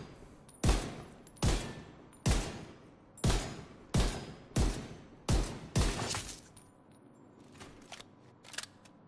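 Rifle shots in Tom Clancy's The Division, fired one at a time in an even rhythm, about ten in all, each a crisp crack with a short tail. The last few sound fainter and more spread out.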